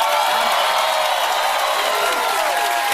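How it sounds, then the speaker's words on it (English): A late-night television studio crowd roars with cheering and applause, a dense, sustained wall of clapping and whoops that carries evenly throughout, with a voice faintly beneath. "listened to the crowd roar with applause"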